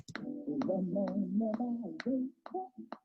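A looped hip-hop beat played from a sampler, with sharp percussive hits at a steady rhythm over warm, low melodic tones, playing alone without any voices.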